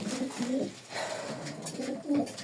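Pigeons coo nearby in soft, repeated low calls, a few overlapping phrases over a faint background.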